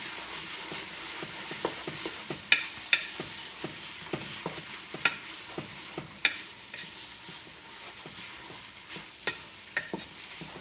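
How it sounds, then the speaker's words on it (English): Hamburger meat and bacon crisping in their own fat in a pan for camp stew, a steady close sizzle and crackle with frequent sharp pops and spatters throughout. "That is the sound of hamburger meat and bacon crisping up in its own fat."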